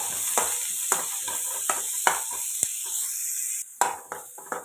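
Garlic cloves and onion sautéing in sesame oil in a kadai: soft sizzling broken by repeated scrapes and knocks of a spoon stirring against the pan, close by, with a brief pause before the clatter resumes.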